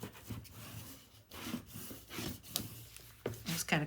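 Paper being burnished by hand onto a page of a Stamperia Alterego 9 x 10 mini album, with soft, close, irregular rubbing strokes and brief scratchy bursts at a quiet level.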